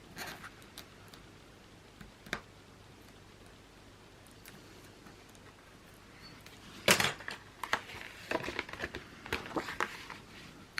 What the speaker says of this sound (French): j'enlève un tout petit peu la pellicule de double face et je colle tout de suite.